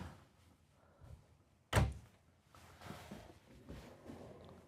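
A kitchen cabinet door in a Renegade Explorer 40ERB RV shuts without soft close, one sharp, close thunk partway through, with quieter handling rustles before and after.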